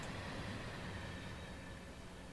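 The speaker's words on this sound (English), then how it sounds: "Oh, there is a freight train going past." A freight train rolls past in Train Simulator on the Riesa–Dresden line, a steady faint rumble of rail wheels and wagons with no break or change over the short stretch.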